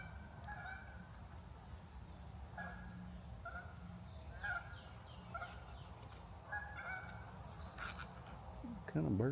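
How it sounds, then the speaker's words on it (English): Outdoors on a nature trail in Conyers, Georgia, a crane-like bird gives repeated honking calls at a moderate distance over soft ambient noise, ending with a louder, closer cry. "What kind of bird was that I was hearing?"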